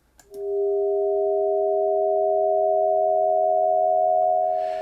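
Two steady synthesized sine-like partials at 636 and 721 Hz, an inharmonic pair, swell in quickly and then hold a loud, unwavering pitch for several seconds before fading at the end.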